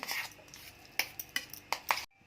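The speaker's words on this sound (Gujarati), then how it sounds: "હવે તેને બરાબર હલાવીને થોડી મિક્સ કરી દઈશું" A spoon stirs fresh malai cream in a bowl, giving several distinct clinks and scrapes in an uneven rhythm, close and fairly crisp, with no one talking.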